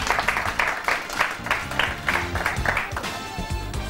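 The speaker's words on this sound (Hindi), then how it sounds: "सब मसूद के लिए तालियां प्लीज एंड बेस्ट विशेस" Studio audience claps for a guest on a TV iftar transmission, rhythmic bursts of clapping over background music with a beat, moderately loud and fairly close.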